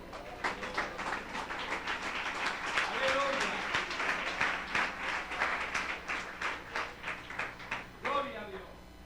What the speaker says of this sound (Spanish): Puede sentarse dándole un fuerte aplauso al Señor.